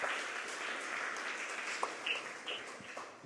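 A congregation gives a round of applause during a sermon on the second coming of Christ, steady mid-level clapping heard faintly throughout with a few sharper claps standing out.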